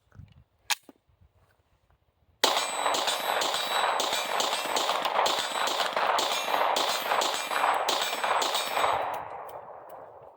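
A Glock 26 pistol with an aftermarket slide fires a quick string of thirteen rounds, sharp cracks coming in rapid succession and ringing out over roughly seven seconds, after a brief pause with a few faint clicks.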